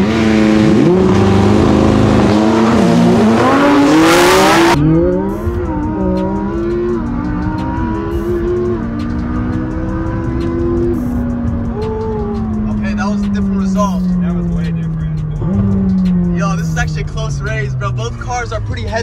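A Lamborghini Huracan STO and a McLaren 600LT drag race, engines roaring loudly at launch, then rising and falling through gear changes as they pull away into the distance, with voices over the engines.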